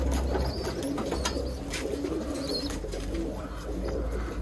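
Roller pigeons coo softly in an aviary, low murmuring calls repeating under a steady background hiss with scattered faint chirps and wing movement, moderately close.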